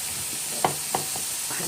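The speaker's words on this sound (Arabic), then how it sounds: "هنيجي نازله بالكبده تقليبه بقى حلوه كده" Liver stirred into a pan of golden fried garlic, giving a steady sizzle with a few sharp scrapes of the spoon against the pan, close and alone without talk.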